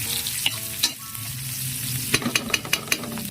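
Garlic, onion and red chili fry and sizzle in cooking oil under a steady hiss, with sharp clicks and scrapes of stirring coming in bursts.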